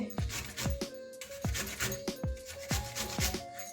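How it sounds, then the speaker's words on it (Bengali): Seeds being scraped out of a pointed gourd with a hand tool in a kitchen, a quick run of short, close rasping strokes in uneven rhythm, quiet and with no talk. "এই যে ঘষে নিচ্ছি বীজগুলো একসাথে রেখে দিচ্ছি"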